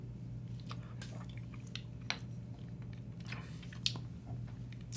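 Quiet chewing and mouth sounds while tasting Carolina Reaper hot sauce, with soft wet clicks and a couple of sharper smacks over a low steady hum, and no talking.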